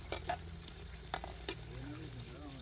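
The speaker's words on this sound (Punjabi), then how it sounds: "ਤੇਲ ਗਰਮ ਹੋ ਗਿਆ ਜੀ ਆ ਵੇਖ ਲੱਗ ਪਿਆ ਉਬਾਲੇ ਖਾਣ ਤੇਲ" Hot oil heating in a pan for lasoora pickle gives off a quiet, steady sizzle broken by a few sharp crackles and pops, fairly close by.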